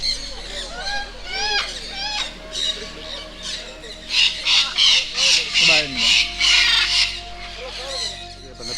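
A big parrot at the Hambantota bird park in Sri Lanka lets out loud, harsh squawks, first a few scattered calls, then a rapid series of raucous bursts, close to the listener.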